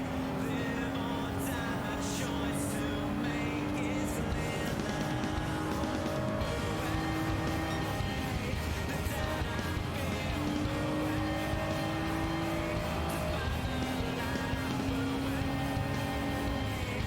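Racing cars in Gran Turismo 7 drone steadily with engine tones rising and falling through gear changes and faint tire squeal, a continuous moderate game soundscape with no talking.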